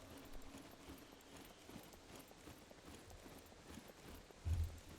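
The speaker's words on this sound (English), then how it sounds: "the pig is like running in circles" Pig in the survival video game SCUM running in circles, heard as a quiet, continuous patter of small rapid footfalls against a low ambient hum, with a short thump near the end.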